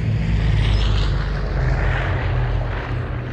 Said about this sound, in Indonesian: Suara helikopter pesawat.